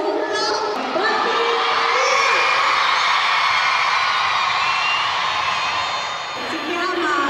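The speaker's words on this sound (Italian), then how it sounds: "io voglio sentire un grandissimo urlo" A crowd at a national Paralympic sports day in Brindisi lets out a big, sustained shout with cheering and children's voices, loud and close, lasting several seconds before fading slightly.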